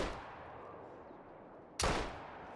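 A single loud .470 Nitro rifle shot cracks out near the end in the Call of the Wild hunting game, after the fading tail of an earlier report, with no talk over it.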